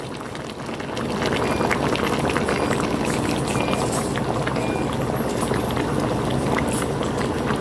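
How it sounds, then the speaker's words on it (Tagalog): Ginataang tambakol, a coconut milk stew with tambakol fish, bubbles steadily in a pot on the stove, a dense continuous simmering bubble that swells after the first second and holds even, close and fairly loud, with no talking. "Guys, kumukulo na po."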